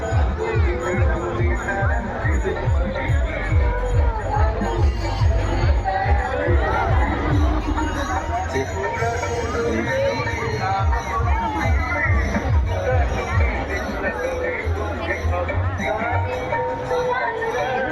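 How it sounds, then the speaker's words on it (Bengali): Dense crowd murmur and babble at the Saat Bhai Kalitala fair on the Ichamati riverbank in Bongaon, a steady, loud wash of many voices throughout with no single speaker standing out. "অন্যবার তুলনায় এবার দেখছি অনেক ভিড়, প্রচুর লোকজন"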